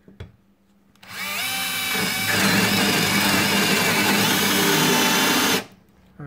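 A Bosch GSR 12V-15 FC cordless drill driver whirs loudly and steadily for about four and a half seconds, starting abruptly after a brief quiet moment and cutting off sharply near the end.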